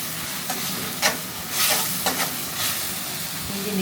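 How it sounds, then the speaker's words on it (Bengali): Tomato paste and onions frying in a home pan while a husband cooks an egg bhuna curry, giving a low steady sizzle broken by a few short scraping stirs of the spoon. "হ্যাঁ টমেটোর পেস্ট দিয়ে দিল পেঁয়াজের সাথে"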